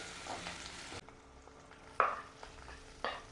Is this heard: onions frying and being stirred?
yes